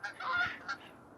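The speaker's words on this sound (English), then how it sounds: "You got the geese doing a flyby." Geese honking as they fly over outdoors, a couple of loud nasal honks close together, alone with no talk.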